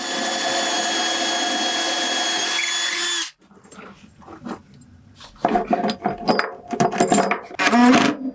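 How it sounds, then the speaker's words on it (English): A power drill whines loudly and steadily for about three seconds while drilling a hole in a school bus RV, then cuts off, followed by scattered knocks, rustling and clinks of handling. "So let's get to drilling a hole."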